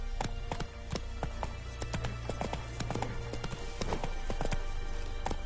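Horse hooves gallop in The Witcher 3, a steady, rapid clip-clop of sharp hoof strikes over a constant low rumble of game ambience.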